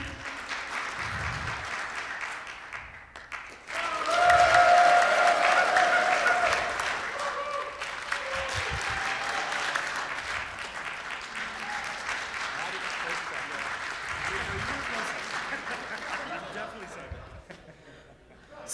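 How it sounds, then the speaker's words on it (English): A room of attendees at a Rotary meeting applauds to vote for an ugly Christmas sweater, with scattered claps building into a loud burst of clapping and then continuing in waves at a lower level, with a voice briefly talking in between. "by the sounds of the applause in the room"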